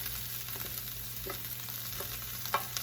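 Onions fry in a pan while being flipped over for a Brussels sprout quiche, giving a steady close sizzle broken by a few soft clicks and scrapes, with no talking.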